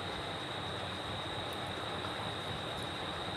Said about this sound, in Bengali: মশলার ফোড়ন দিয়ে এই যে পেঁয়াজ কুচি দিয়ে দিছি